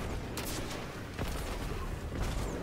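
Rocket launcher fire in the Destiny 2 Savathun's Song Nightfall, heard as several broadband blasts and booms over a dense, noisy game mix, with sharp bursts near the start and again toward the end.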